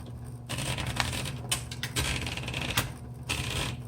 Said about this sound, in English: load the paper, and let's start typing